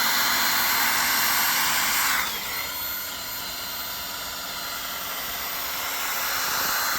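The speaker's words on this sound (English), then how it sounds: "So this is the polishing" Steady whirring drone of a power polisher buffing a car headlight with a restoration kit, loud and continuous, dipping slightly in pitch partway through as pressure changes.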